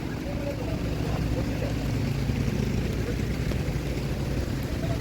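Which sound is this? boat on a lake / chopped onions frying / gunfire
boat on a lake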